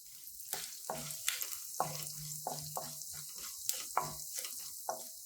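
Urad dal frying in oil in a pan, a soft sizzling hiss broken by repeated scraping and tapping as the spoon stirs, quiet and close with no talking.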